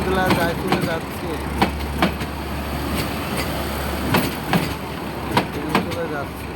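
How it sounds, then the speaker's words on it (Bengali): A train rolls past a station platform where people wait, with a low steady rumble and rhythmic clicks from the wheels over rail joints, while people talk nearby. "ট্রেনগুলা যায় চলে যাচ্ছে"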